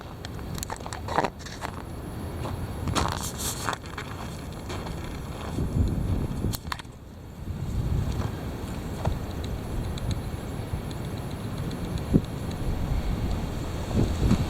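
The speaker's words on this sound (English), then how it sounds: "Here it comes. The heavy wind." Heavy wind gusts buffet the microphone in a steady, loud roar that swells and dips throughout, with occasional sharper thumps from the blasts; no one talks.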